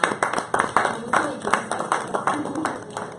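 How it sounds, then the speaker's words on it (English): Lively applause from an audience at a lifestyle event welcoming a guest speaker, a mix of crisp individual claps and a busier crowd beneath, close and uneven, with a few voices mixed in. "Please a round of applause for"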